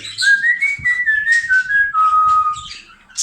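Someone whistles a simple tune up close to budgerigars, clear sustained notes sliding between pitches, with faint background clatter and no talking.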